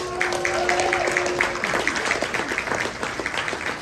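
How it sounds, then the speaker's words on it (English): Audience at a Black Tie & Tie Dye 2024 gala dinner applauding the event committee, a moderate burst of clapping with some crowd chatter mixed in and a brief tonal hum early on. "please raise your hand so we can applaud you"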